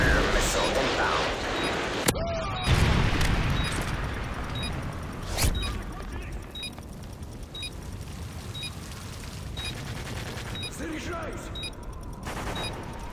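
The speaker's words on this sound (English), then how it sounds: "Predator missile inbound" Predator missile strike explosions in a Call of Duty match: loud blasts and booming impacts over continuous gunfire, with sharp bangs near two and five seconds and a steady roar of combat throughout.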